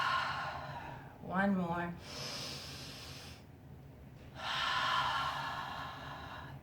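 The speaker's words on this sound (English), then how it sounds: "So deep inhale, deep exhale." Slow, deep breaths drawn in and let out during a seated cross-legged yoga session, two long airy breaths close to the mic, with a brief spoken word between them.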